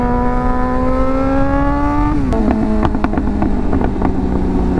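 Suzuki GSX-R 600 motorcycle after modifications, engine droning and dropping in pitch as the throttle closes, followed by a handful of sharp exhaust pops and crackles spaced irregularly over the steady running note.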